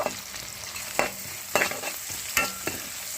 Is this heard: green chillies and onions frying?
yes